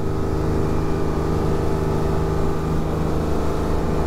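Refitted 1968 Levi Triana 27-foot powerboat running flat out at sea, a loud constant engine roar with rushing water, close and unbroken, no voices.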